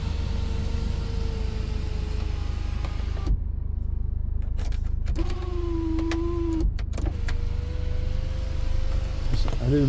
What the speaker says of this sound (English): You can tilt the sunroof, or you can open it all the way.